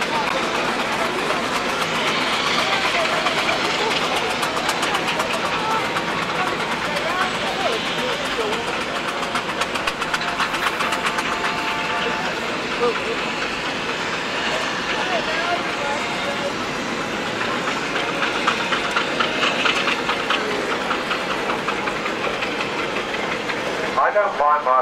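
A steam engine runs steadily at a steam fair, a continuous mechanical chugging and hiss that holds for the whole stretch, with people talking nearby over it.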